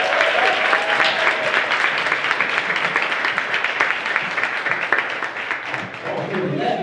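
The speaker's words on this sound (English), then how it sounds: "Let's clap it up." Sustained audience applause at a live 100th-episode podcast taping, dense steady clapping filling the whole stretch with a voice faintly underneath near the end.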